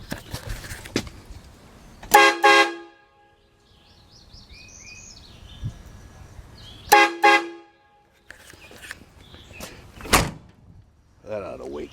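Vevor truck air horn kit blasts in two short, loud, brassy honks several seconds apart, with clunks and a door-like thud around them and a voice talking faintly between.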